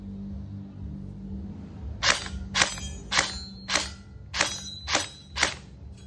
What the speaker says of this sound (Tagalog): Testing full auto. Testing semi-auto.